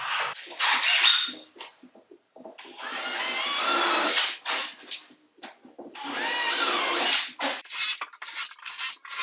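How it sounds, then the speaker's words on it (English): Power drill whirring in several bursts as it bores countersink holes in wood, with short gaps and handling noises between the longer runs. "ready to drill our countersink holes"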